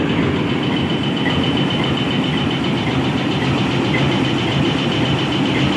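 Pakistan Railways RGE 24 diesel locomotive, a 2400-horsepower rebuilt General Electric engine, running at a steady loud rumble with a dense, unbroken mechanical drone throughout.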